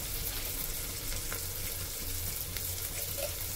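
Ground spices such as coriander powder and garam masala fry in a pan for black lentil (masoor) dal, giving a steady, soft sizzle with faint stirring scrapes throughout and no talking.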